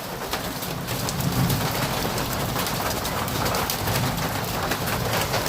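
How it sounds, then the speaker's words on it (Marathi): Summer rain mixed with hail falls steadily, a dense continuous patter with sharper ice-pellet ticks throughout, while pigeons or doves coo faintly nearby in the background. "बघा आमच्या इकडे आज पाऊस पडायला लागलाय"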